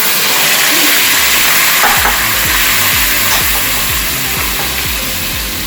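Onion and garlic fry loudly in a hot pan, a dense continuous sizzle with rhythmic scraping thumps of a spoon stirring through them, close and without talk.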